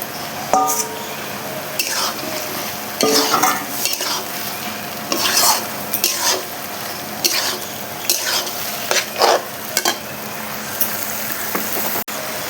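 Fried potatoes stirred into a sautéed paste of melon seeds and poppy seeds in a pan, with soft scraping and sizzling strokes in repeated bursts, close by.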